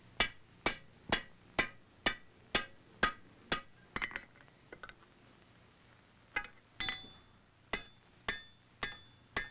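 A hammer strikes a glowing iron rifle barrel during forge welding. Sharp ringing blows land in an even rhythm, pause briefly, then resume with a few lighter taps, close and clear.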